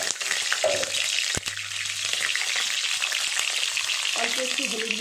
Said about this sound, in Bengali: আমি আলুগুলো আগে ভেজে নেব